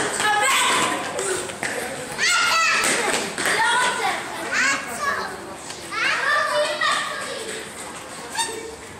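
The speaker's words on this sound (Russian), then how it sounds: "Дети у них страшно шумные, кричат, орут." Noisy children shout and play in a Jerusalem street, their high excited voices overlapping loudly and almost continuously near at hand.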